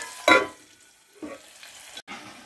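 Tempering for spinach dal with dried red chillies and onions, frying in a pan; a loud stir or scrape near the start, then softer scraping clatter around the middle and a faint sizzle underneath, no voices.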